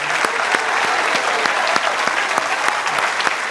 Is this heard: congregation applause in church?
yes